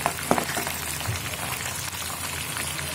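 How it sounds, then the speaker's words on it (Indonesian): Freshly caught eel from a rice paddy fries in a pan with oil, giving a dense, continuous sizzle and crackle with a few sharper pops near the start, close and steady with no voices. "goreng dulu ya"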